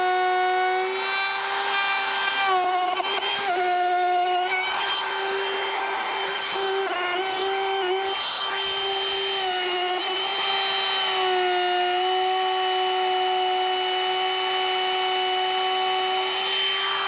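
Power sander working over a wooden console for a Cummins-swapped square body K30 truck, a steady whirring drone with shifting rubbing tones, continuous and fairly close, no talk.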